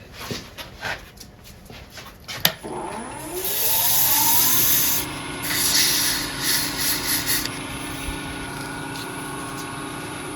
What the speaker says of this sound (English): A little more sanding.